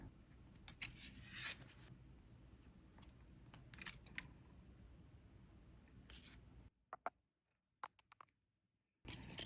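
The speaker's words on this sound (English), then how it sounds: "Snip the one end shorter." Copper wire being snipped short during wire wrapping of a copper washer pendant, a few sharp cutting clicks and rasps close up, followed by brief isolated snips amid silence.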